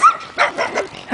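Dogs bark and yip in quick succession on a walk, several short, close, lively barks with a whimpering edge.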